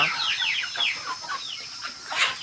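Native country chickens cluck and chirp in a backyard rearing pen with a dozen chicks, the calls overlapping in quick, fairly close bursts with a louder call near the end.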